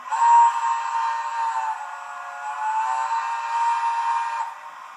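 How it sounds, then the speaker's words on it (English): A model steam locomotive's sound system gives a steady multi-tone chime whistle for about four seconds, clear and continuous, then cuts off. "chime whistle."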